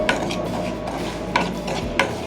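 Semolina (suji) dry-roasting in a wok as it is stirred, a steady soft scraping and faint sizzle with a few sharper utensil scrapes against the metal, close and continuous, no talking.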